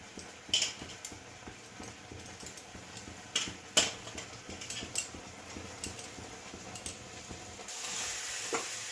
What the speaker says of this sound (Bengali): গুড়টা ফুটে উঠেছে, এবার আমি নারকেলটা দিয়ে দেবো।